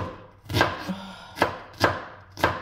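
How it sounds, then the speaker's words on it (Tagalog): An onion is chopped into small cubes with a knife on a board, four sharp, close knocks spaced unevenly with quiet gaps between them and no talking. "Cubes na maliliit lang gawin natin sa onion guys."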